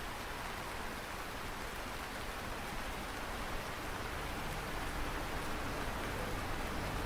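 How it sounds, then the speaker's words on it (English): Steady rain falls in the farming video game Lightyear Frontier, a dense, even hiss of drops without pause, moderately quiet and uninterrupted by voices. "It's raining."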